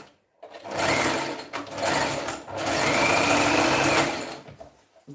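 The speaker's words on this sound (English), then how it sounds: "So I'm just going to stitch." A sewing machine stitches in three sustained close runs of steady whirring, each a second or so long, separated by brief pauses with faint handling noise.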